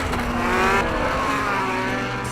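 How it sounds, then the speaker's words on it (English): A two-stroke, two-cycle engine runs loud and close with a steady high buzzing drone and a slight rise in pitch, filling the whole moment without talk. "Two-stroke, two-cycle. Two-cycle engine."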